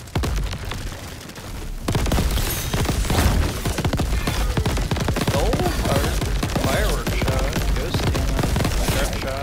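Fireworks go off in the video game Crab Champions: a dense crackling barrage of rapid pops and booms that begins after a quieter opening and continues loudly, with faint voice sounds underneath.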